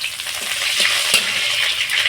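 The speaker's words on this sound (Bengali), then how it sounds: "এবার এর মধ্যে দিয়ে দিচ্ছি দুটো চেরা কাঁচা লঙ্কা" Slit green chillies drop into hot mustard oil and sizzle steadily, a close, continuous bright frying hiss with a brief louder crackle partway through.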